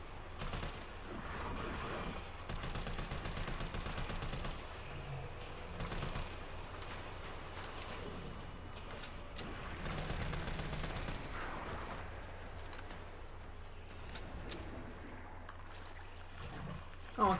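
Gunshots in the Resident Evil 3 Remake survival horror game ring out as repeated sharp reports in irregular bursts over a low ambient rumble, fairly quiet overall.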